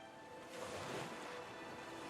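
Ocean waves wash against a seashore in a steady, broad surf that swells slightly midway and then settles, with no voices.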